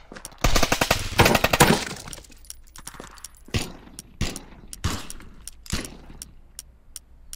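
Gunfire from the VR shooter Contractors: an opening stretch of rapid automatic bursts, then a series of separate sharp shots spaced about a second apart, fairly close, with no talk.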